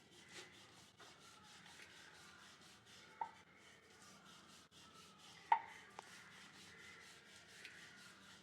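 A rolling pin works dough balls into rounds for green pea khasta kochuri, making faint, repeated rubbing strokes with a few sharper knocks against the board, with no voices.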